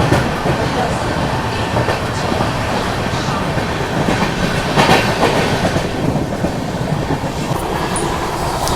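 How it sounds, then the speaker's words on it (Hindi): An express passenger train rolls along at speed, a loud continuous rumble with rhythmic clatter of wheels on the rails, steady throughout. "गाड़ी तो अभी अच्छी स्पीड में चल रही फिलहाल"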